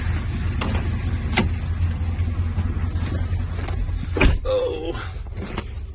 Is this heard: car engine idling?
yes